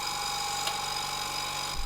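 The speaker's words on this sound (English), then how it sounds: "Super handy, this compressor." A portable air compressor runs steadily for tire inflation, a constant mechanical hum with fine harmonic tones and a faint motor whine, even in level, close and fairly quiet, with a small bump near the end.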